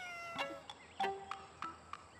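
A cat meows several times in short, separate calls spread over about two seconds, fairly faint and close, with no one talking.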